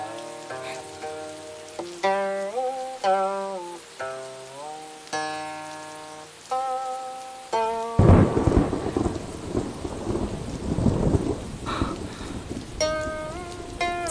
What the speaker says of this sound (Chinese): 这雷声也可以入琴